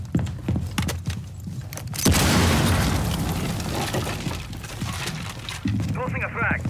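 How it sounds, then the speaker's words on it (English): A breaching charge goes off in Rainbow Six Siege during a ranked match, a loud broad blast that bursts in at about two seconds and decays over several seconds into crackling debris, with game noise and talk around it. "Breaching charges up."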